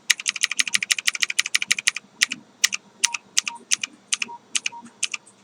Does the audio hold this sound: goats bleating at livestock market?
no